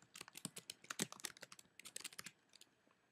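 Quiet, rapid keystrokes on a computer keyboard, about twenty clicks in an uneven run that trails off near the end, with no voices.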